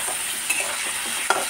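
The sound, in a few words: potatoes frying in fish oil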